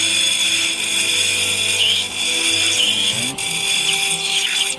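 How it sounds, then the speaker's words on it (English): An old homemade bench grinder fitted with plates cuts opal potch, a colourless opal, from Lightning Ridge, Australia, giving a loud continuous high-pitched grinding whine with sustained tones and slight shifts in pitch as the stone is pressed in. "Old bench grinder. Put in a couple of plates here."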